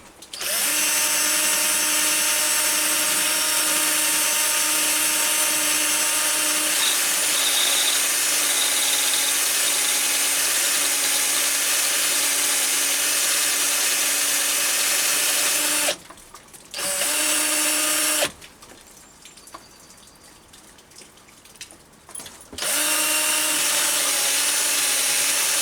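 A drill bores halfway into a metal split clamp held in a four-jaw self-centering chuck on a lathe, giving a loud, steady tonal whine that cuts out twice near the end before resuming.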